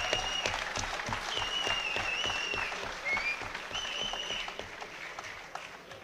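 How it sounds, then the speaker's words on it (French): Crowd applause at an RLFC fighting event in Luxembourg, steady clapping from a large audience with whistles and cheers piercing through, gradually thinning toward the end. "Je voudrais qu'on les applaudisse très fort, mesdames, messieurs, pour tout le travail accompli."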